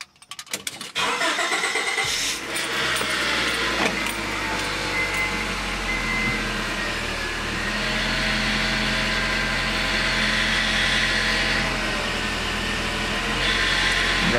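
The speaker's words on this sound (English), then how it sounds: "we're going to start the vehicle up" A 1994–1997 Honda Accord engine cranks and catches, then settles into a steady, loud idle that continues throughout.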